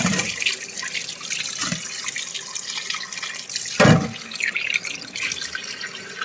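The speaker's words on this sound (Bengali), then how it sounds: "জল দিয়ে ধুতে হবে এটাকে" Raw chicken is washed under running water, a steady splashing stream with gurgles and a couple of heavier splashes as the pieces are handled.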